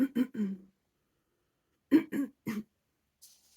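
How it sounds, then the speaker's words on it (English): A few short, throaty coughs in two bursts separated by a pause, close to the microphone, with quiet between them. "I just had a little cough"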